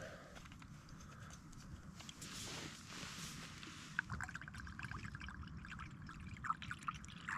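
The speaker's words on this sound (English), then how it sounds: "I'll top that up with a bit more fluid" Liquid being poured to top up a cooking pot at a camp on Side Pike in the Langdales: a quiet, continuous trickling pour with faint small clinks near the end, close by and without speech.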